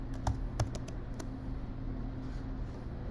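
Several light keystrokes on a computer keyboard near the start while a word is typed into logo design software, then steady background hum with no talk.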